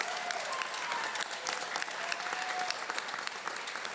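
An audience at a Special Olympics evening reception breaks into steady, dense applause for the athletes, a sustained clapping crowd filling the room for the whole stretch.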